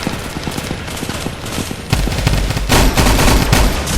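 Rapid repeated gunfire from a pillow gun in a video game, fast rattling bursts that grow louder and denser partway through, close and dominant with no talk.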